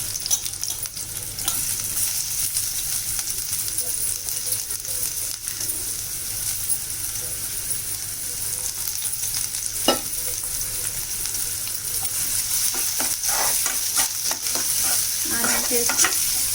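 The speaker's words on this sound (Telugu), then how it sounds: "ఆయిల్ ఎక్కిన తర్వాత ఆనియన్స్ వేసేసుకుందాం." Onions sizzling and frying in hot oil for a tomato curry with dried fish, a steady broadband hiss with occasional stirring clinks and scrapes, close and continuous with no talk.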